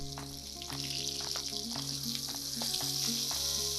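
Lamb chops sizzle steadily in a hot pan after being flipped, a loud, close, continuous frying hiss with a light hum beneath and no talking.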